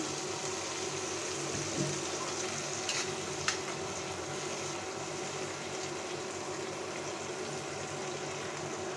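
Tomato with ginger-garlic paste, chili, coriander and turmeric powders and salt being sautéed in a pan for a quick Bangladeshi egg curry, giving a steady low sizzle throughout with a couple of faint utensil clicks.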